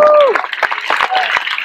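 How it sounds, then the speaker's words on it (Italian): An audience claps for the dancers Marco, Isabella and Valentin at a tango dance show, the applause loud and close, mixed with a voice calling out at the start and some shouting throughout. "Marco, Isabella e Valentin, forte l'applauso!"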